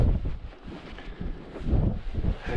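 Strong winter wind buffets the summit of Ben Nevis, roaring and gusting against the microphone in loud, uneven surges with no voices.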